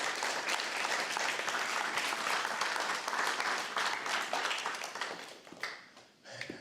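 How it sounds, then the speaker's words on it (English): Audience applause at a guide dog graduation ceremony, a steady dense wash of clapping that holds strong for about five seconds, then thins and tapers off toward the end. "let's give her a round of applause"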